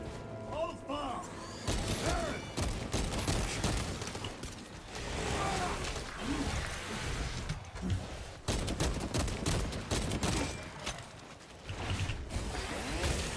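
Bolter fire in Space Marine 2, the heavy explosive rounds crackling in dense, sustained bursts over a clanking mechanical bed, with brief pauses, mixed with voices talking throughout.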